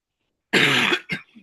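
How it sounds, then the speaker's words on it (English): One person gives a hard, close cough followed by a shorter second cough and a faint throat rasp, all against silence. "Sorry for the coughing."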